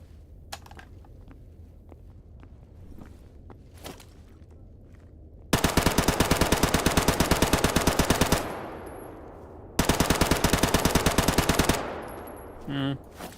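A PP2000 submachine gun fired in STALKER GAMMA, two long loud full-auto bursts of rapid, evenly spaced shots separated by a short pause, following a quieter stretch of footsteps and ambient noise.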